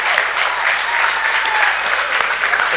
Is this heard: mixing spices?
no